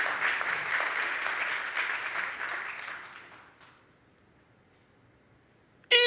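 Church congregation clapping in praise during a sermon, a dense wash of applause that holds for about three seconds, then fades away into near silence, with a brief loud burst at the very end.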